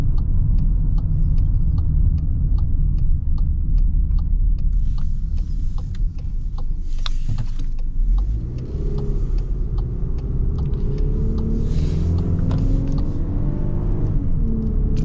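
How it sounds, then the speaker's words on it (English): A 2025 VW Atlas Peak Edition with its small four-cylinder engine drives along, a steady close rumble that deepens and shifts partway through as the engine pulls harder, with no talk over it. "This engine's got quite a bit of torque actually for a little 4-cylinder. Sounds kind of interesting too."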